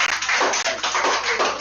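Dense audience clapping at a student open-mic session on cell phones, a steady wash of many hands close by, running without break for under two seconds.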